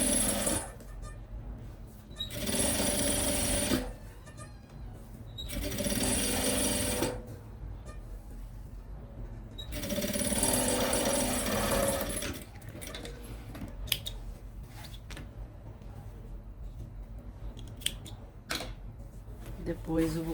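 A sewing machine stitches the front panels of a Kipling-style pouch together face to face in three bursts of a few seconds each, close by, with someone talking quietly between the runs.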